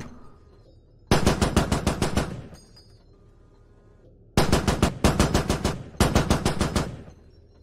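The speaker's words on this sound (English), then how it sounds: "Oh, I shot him out of it!" In the game Squad, rapid automatic gunfire rips out in three loud sustained bursts, each a fast even string of shots, with short quiet gaps between them. No talking.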